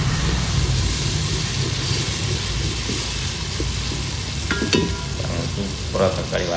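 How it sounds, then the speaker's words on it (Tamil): Tomatoes sauté in a pan for a country chicken pepper rasam, a loud continuous sizzle with low rumbling bubbling and occasional spoon scrapes and clinks toward the end, close and without talk. "சூப்பராக தக்காளி வதங்கிட்டு இருக்குது"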